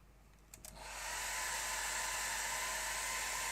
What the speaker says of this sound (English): I'm just going to whack it with the hairdryer.